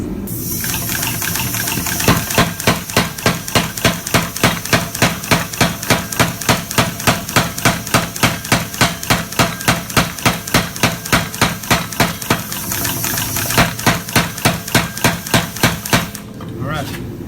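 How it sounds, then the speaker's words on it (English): Rapid, steady hammer blows ring on hot steel while forging a chef's knife blade, a long evenly paced series of sharp strikes close by, with a brief pause partway through. "Switch probably to this littler hammer"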